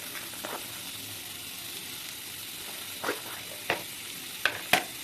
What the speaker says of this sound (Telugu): 1 టేబుల్ స్పూన్ వరకు నెయ్యి వేసుకొని ఈ డ్రై ఫ్రూట్స్ అన్నీ అందులో మనం ఫ్రై చేసుకోవాలి.